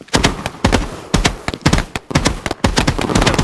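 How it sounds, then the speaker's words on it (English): Fireworks going off in the video game Fireworks Mania: a rapid string of loud, sharp bursts and crackling volleys in uneven clusters, close and continuous with no talking. "The fireworks in the background."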